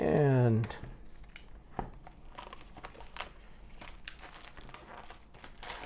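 Cardboard and plastic wrapping of an Apple Watch Series 4 box rustle and crinkle as a tab is pulled, with faint tearing, close and fairly quiet after a short voice at the start.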